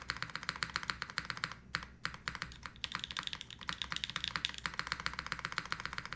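Steady, fast typing on a mechanical keyboard fitted with ABS keycaps, a dense run of close, crisp key clacks with a brief slowdown partway through and no talking.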